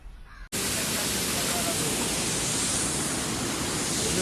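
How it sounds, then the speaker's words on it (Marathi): A waterfall on the way up the steps pours with a loud, steady rushing roar close by. It starts abruptly after a brief quieter moment and continues unbroken. "झरना."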